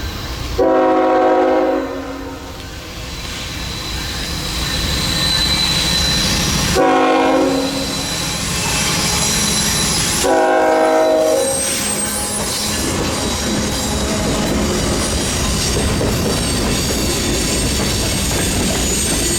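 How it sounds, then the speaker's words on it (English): A Norfolk Southern manifest freight led by ET44AC 3650 passes on the Sunbury line, sounding three loud horn blasts over the rumble and clatter of rolling wagons, with squealing wheels as it goes by. "the headlight of NS ET44AC number 3650 appeared around the bend from the Steamtown Y as it made its way south along the Sunbury line"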